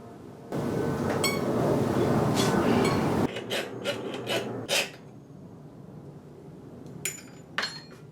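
A steady, harsh rasp of a file scraping the edge of a metal ceramics tool runs for a few seconds, followed by lighter scrapes and small clinks nearby.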